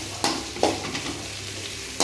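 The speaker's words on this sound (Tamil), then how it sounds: "வெங்காயம் வதக்கணும்." Onions sauté in a hot pan, a steady sizzle broken by a few scraping stirs of a spoon, close and without voices.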